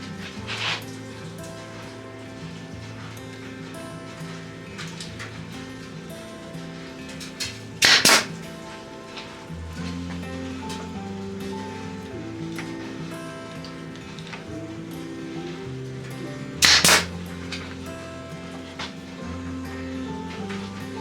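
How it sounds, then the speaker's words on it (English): A nail gun drives nails into scrap wood pieces on a DIY wall-art project, giving two sharp, loud snaps about nine seconds apart over a quiet room background. "And I'm going to use the nail gun for that."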